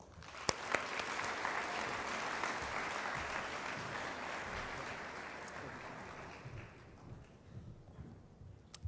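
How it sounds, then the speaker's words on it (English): An audience at an awards ceremony and gala applauds warmly, a sustained wash of clapping that swells then gradually fades over several seconds. "Please join me in giving a warm welcome to Mr. Valsamas."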